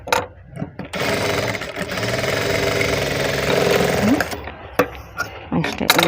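A sewing machine stitches a cloth pocket piece cut from waste fabric, a loud, fast mechanical whirring run of about four seconds, with brief starts and stops on either side.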